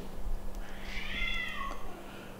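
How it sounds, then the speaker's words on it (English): Cats squall and meow in a tense fight, a rising, wavering yowl that swells for about a second before breaking off, with a steady mains hum underneath. "Somebody's attacking, some cat is attacking my cat."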